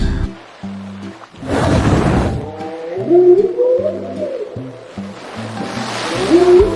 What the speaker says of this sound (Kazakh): Кит қандай дыбыс шығарады? Кит.